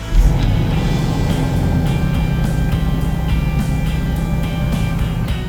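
A Ford Mustang's engine idles steadily after an oil service, a loud, close, continuous low rumble with no talk over it.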